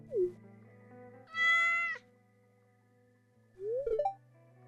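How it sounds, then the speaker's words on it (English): A cat meows three times in a farming video game, a short cry at the start, a longer bright mew in the middle and a rising double meow near the end, clear over a soft steady background tone. "Oh, we got our cat."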